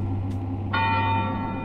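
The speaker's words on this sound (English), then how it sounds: "That church bell." A church bell in the horror game Cry of Fear strikes once within an eerie city ambience, its loud, ringing tone sustaining and slowly fading over a low, steady drone.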